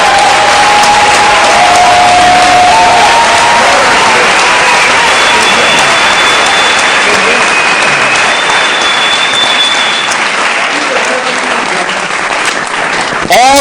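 A congregation at a students' Bible camp breaks into sustained loud applause with some cheering, a dense wash of clapping lasting many seconds, with voices faintly mixed in.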